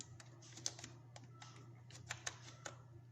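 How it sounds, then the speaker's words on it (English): Typing on a computer keyboard while entering a username at a command prompt, with a quiet, irregular series of light key clicks and taps over a low steady hum. "You have to type here your user name."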